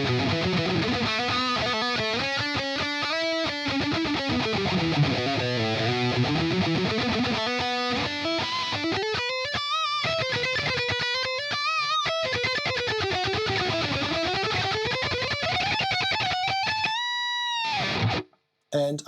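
Lead electric guitar played through the Neural DSP Nameless X amp plugin with the hex drive pedal engaged, heavily distorted and sustained, with bending, gliding melodic lines played loud and alone before an abrupt stop near the end.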